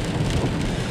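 Rain falls fairly hard during a drive downhill into a town centre, a dense steady hiss layered over low road and engine rumble for about a second.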